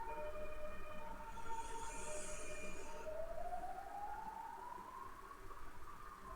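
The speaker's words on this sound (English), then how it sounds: "Now we've got ambulance." An ambulance siren wails outside, distant and faint, its tone sliding upward in a long sweep over a steady low hum of ambient noise.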